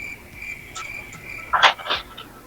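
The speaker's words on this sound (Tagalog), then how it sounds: "Bakit ho bigla hong nagising yung mga kuliglig." Crickets chirping at night, a high steady trill with a few louder nearby chirps and short bursts near the end, no talk.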